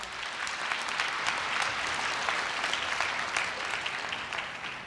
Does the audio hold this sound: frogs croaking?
no